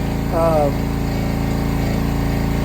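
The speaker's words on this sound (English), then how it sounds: "Let the air compressor build up a little bit." An air compressor runs steadily close by, building pressure for a soft wash pressure-cleaning rig with an air diaphragm pump, its even mechanical drone continuing throughout with a brief higher whine early on.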